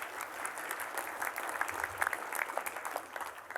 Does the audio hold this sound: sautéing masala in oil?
no